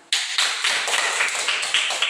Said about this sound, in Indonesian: Kita tepuk tangan buat mereka semuanya.